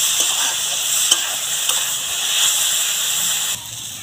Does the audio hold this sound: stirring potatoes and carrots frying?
yes